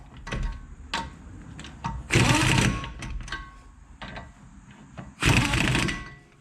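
Impact wrench quickly running in the wheel bolts on a 2006 Nissan Altima during brake work, two loud buzzing bursts of about a second each, separated by lighter clicks and handling noises, close by.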